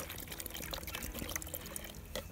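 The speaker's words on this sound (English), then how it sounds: "So I'm popping the water into my lantern." Water pours steadily into a lantern with a bubbling, splashing trickle, close and fairly quiet.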